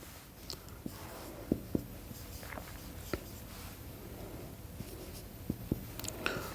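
Chalk or marker strokes on a classroom board during a German language lesson, a series of short, sparse taps and scratches spread over a quiet room with faint background noise.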